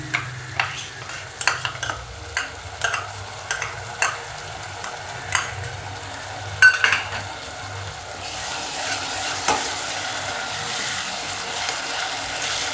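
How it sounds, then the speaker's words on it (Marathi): Spinach sautéing with onions in a pan for palak rice, stirred with a spoon: repeated scraping strokes at a steady rhythm over a soft frying sizzle, close up, then a denser continuous sizzle near the end, with no voices. "त्याच्यासोबतच असा परतून घ्यायचा, कांद्यासोबत असं हलवत राहायचं सारखं."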